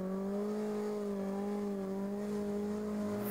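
A car engine revs at a sporting trial and holds a high, steady whine, its pitch wavering slightly as the motor is pushed hard, heard close and continuous.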